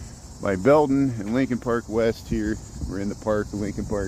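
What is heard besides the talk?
cicadas buzzing in Lincoln Park, Chicago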